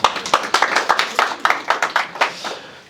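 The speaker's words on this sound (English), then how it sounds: "I definitely want you guys to give yourselves a round of applause before we get started" A small audience at a tech fireside chat claps, a sparse scattering of distinct hand claps in a fairly close room, dozens of separate claps over a few seconds before fading out.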